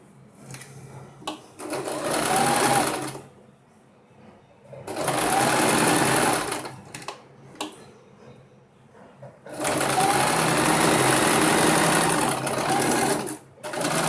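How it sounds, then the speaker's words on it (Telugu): An electric sewing machine stitches down fabric pleats in three sustained bursts of fast whirring, with short pauses between runs and no talk. "ఇలా పైన స్టిచ్ వేస్తూ వెళ్ళిపోవాలండి."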